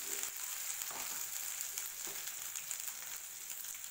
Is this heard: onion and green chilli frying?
yes